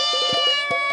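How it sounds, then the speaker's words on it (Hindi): Cats meow in a kitchen in an animated story, a few short bright mews in a quick cluster over a sustained tonal musical bed. "अरे आप लोग म्याऊं म्याऊं क्यों चिल्ला रहे हैं?"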